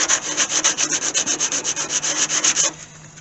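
Loose old putty is scraped from a rust spot on an AMC Gremlin's body in quick, rhythmic strokes, about a dozen close, even passes before the scraping stops.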